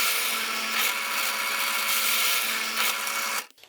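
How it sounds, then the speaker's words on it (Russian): A steady, loud whir of a drill with an 8 mm bit boring into wood, continuing evenly before stopping abruptly at the end. "беру также и продолжаю сверлить"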